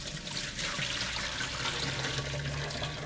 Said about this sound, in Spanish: Luego escurrimos las espinacas.